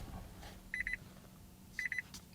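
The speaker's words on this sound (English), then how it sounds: "it beeps like crazy when the doors open" A Nissan Leaf gives two quick bursts of rapid, high-pitched electronic beeps, each a tight cluster of four pips, sounding fairly faint over a low background hum.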